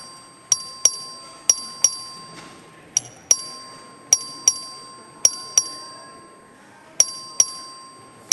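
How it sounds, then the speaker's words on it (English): A legislative voting bell rings in the chamber during a record vote: a series of bright, clear metallic dings, some single and some in quick pairs, each fading quickly in an irregular rhythm over a quiet room. "The clerk will ring the bell."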